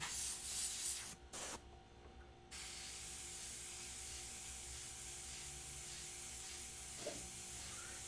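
An airbrush sprays paint in a soft, steady hiss that runs almost without a break. A couple of brief pauses come early, and the whole thing stays faint and close with no talking.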